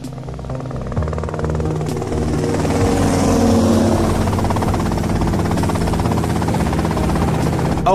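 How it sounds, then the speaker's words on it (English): A helicopter in the video game GTA Vice City gives off a loud, steady rotor and engine drone. It builds in the first second and then holds constant to the end, with no talking. "Okay, that's them in the chopper."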